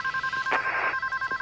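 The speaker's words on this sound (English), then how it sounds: "Let me answer the phone." A telephone ringing with a rapid, warbling electronic trill, loud and close, broken by a short burst of background noise.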